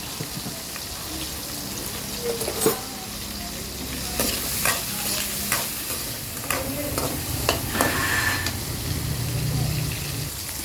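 Ginger, strong green chili and mango sauté in a pan, giving a steady sizzle with the scrape and clack of a spoon stirring at intervals, close and moderately loud, with no talking.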